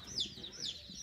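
Young chickens, just delivered, cluck and cheep softly indoors, two quick high chirping calls with faint low background murmur.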